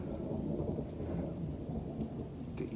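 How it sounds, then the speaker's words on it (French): A violent summer thunderstorm over Clermont-Ferrand, Auvergne, with continuous low rumbling thunder and steady rain, plus a few sharper crackles near the end. "C'est un terrible orage."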